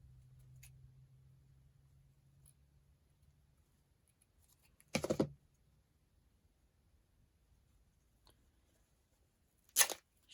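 Two short bursts of tearing fabric, several seconds apart, in an otherwise quiet room with a low hum at the start.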